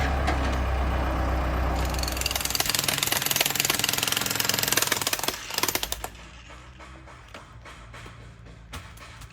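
Jackhammer chipping away at three-foot-thick stone during house construction in Costa Rica: loud, rapid pounding over a heavy engine drone, then sharp irregular knocks that taper off while a quieter idling hum remains.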